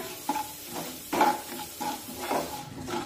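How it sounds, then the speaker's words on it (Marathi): Urad dal roasting over a low flame for oats upma, a soft sizzle with a few distinct stirring scrapes and light clinks of spoon on pan, close by, no voices. "तर 1 मिनिटभर ही डाळ आपण छानपैकी परतून घेऊया"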